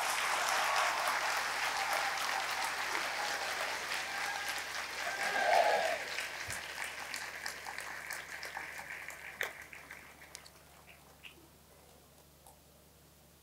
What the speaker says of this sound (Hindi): तो तालियां बजाओ कि सचमुच है